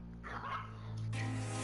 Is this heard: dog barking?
yes